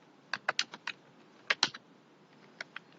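Short bursts of typing on a computer keyboard while values are entered into an Excel spreadsheet, with crisp clustered key clicks in two quick groups and a couple of isolated taps, close and fairly quiet with no talking.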